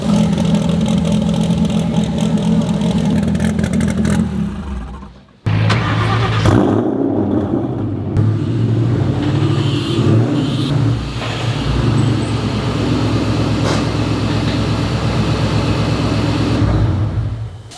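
A 3,000+ horsepower Dodge Viper engine revs hard and loud, cuts off briefly, then roars back with a rough, sustained growl and traffic-like rumble.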